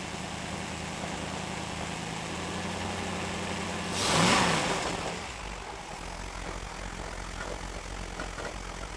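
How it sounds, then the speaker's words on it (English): A 502 engine on a 2000 Baja H2X boat runs with a steady, deep drone heard close from the back end of the boat. Partway through, a short swell of louder roar rises and then fades back to the even hum. "So that's what being on the back end of a 502 sounds like."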